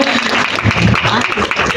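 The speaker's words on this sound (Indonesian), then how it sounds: "Tepuk tangan dulu, tepuk tangan buat Mbak Claudia." Applause from a seated audience at a health talk, a steady patter of hands with voices murmuring underneath.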